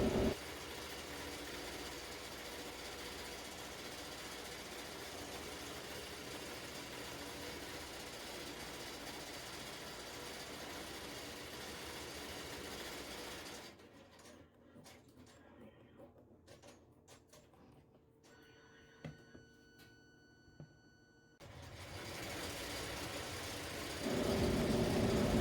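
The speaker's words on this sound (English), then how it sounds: "You will hear my embroidery machine in the background." An embroidery machine runs in a home sewing room as a steady, low mechanical hum and whir, fairly faint, with a quieter stretch near the middle where soft clicks and taps stand out before the hum returns.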